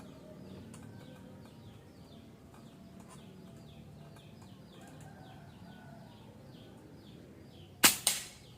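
A single sharp shot from a Neo GNT air rifle fitted with a silencer cracks near the end, followed by a brief snapping echo or impact, against quiet outdoor background with faint bird chirps.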